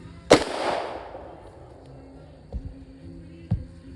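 A single gunshot cracks out nearby during gunshot training for horses, with a sharp report followed by a long fading echo, then a couple of dull thumps and a low hum.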